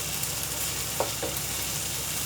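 Crushed ginger and garlic sauté in a pan of oil for a ladies finger (bhindi) masala, giving a steady faint sizzle with a couple of brief stirring scrapes midway, no voices.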